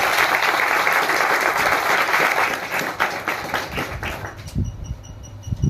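A room of people applauds to congratulate two former students at a gathering, with dense steady clapping that thins and fades out toward the end.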